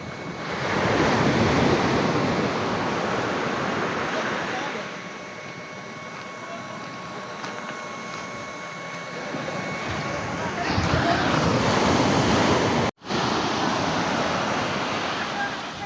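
Sea waves washing onto a beach with strong wind buffeting the microphone, a loud continuous surf roar that eases midway then swells again, with a brief dropout near the end.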